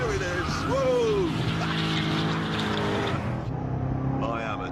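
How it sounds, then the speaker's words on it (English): A Corvette Z06 spins its rear tyres into smoke, its engine roaring and revving continuously with squealing, skidding rubber, close and loud, while someone talks over it. "Already I've converted most of the rear tyres into smoke."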